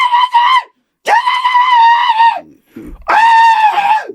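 A woman screams repeatedly and loudly in a background recording, three long, shrill, sustained cries separated by brief pauses.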